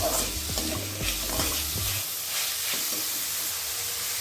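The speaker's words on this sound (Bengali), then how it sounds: "ছানাটা আমি 30 সেকেন্ড ভেজে নিয়ে এবার দিয়ে দিচ্ছি চিনি" Chhana frying with sugar in a pan as a utensil stirs it, with quick scraping strokes over a soft sizzle for the first two seconds, then a quieter steady hiss of frying with only occasional light scrapes.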